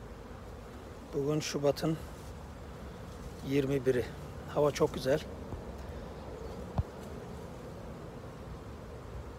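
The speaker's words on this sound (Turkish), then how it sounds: "Arılar" Honeybees buzzing around a hive that came through winter, a continuous close drone beneath someone speaking Turkish in short bursts.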